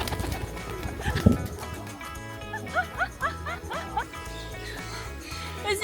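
A dog at Bird Paradise on Koh Samui gives a single sharp bark, then a quick run of high, excited yips over steady background noise.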